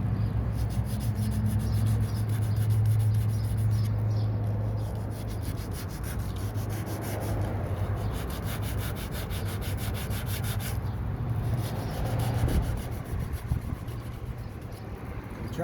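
A car body being sanded with a heavy-grit sanding block to strip rust, a continuous close, loud rasping scrub in steady strokes, with a low hum running underneath.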